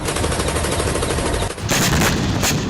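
Russian helicopter machine gun firing at Ukrainian sea drones near Crimea: dense, continuous loud automatic gunfire rattling throughout, with a brief dip before a sharper stretch of bursts.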